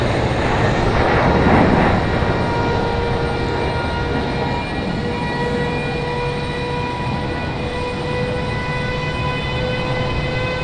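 A C-17 military transport aircraft at Raleigh-Durham airport hums with a steady, loud engine whine that holds for the whole stretch, with no voices.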